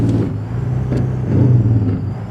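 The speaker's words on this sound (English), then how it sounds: "The Detroit 60 growls through the gears while the turbo whistles softly under throttle." A Detroit 60 diesel truck engine in American Truck Simulator gives a deep steady rumbling drone under throttle, loud and continuous, swelling slightly midway, with no talk.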